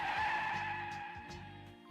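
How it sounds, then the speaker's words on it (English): Car brakes screech in a street as a sound effect in an audio drama: a loud, sustained, shrill tire squeal that holds steady and then slowly fades, with no talking. "The shrill sound of brakes echoes through the street."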